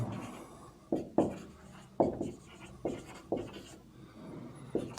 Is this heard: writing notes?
yes